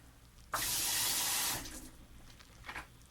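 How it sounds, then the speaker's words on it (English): A loud rush of water added to a bowl of instant noodles for about a second, then fading into smaller dribbles and splashes. "Adding more water."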